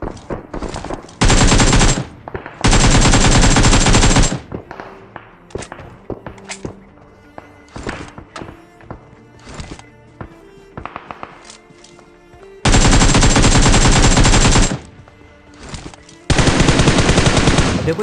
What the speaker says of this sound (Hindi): सामने की तरफ से अभी मेरे को कुछ गन साउंड आ रहे हैं